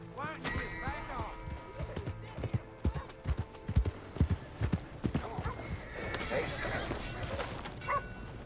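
Horse hooves clopping in Red Dead Redemption 2, a steady run of close, sharp hoofbeats with a horse whinny near the start and people talking over them.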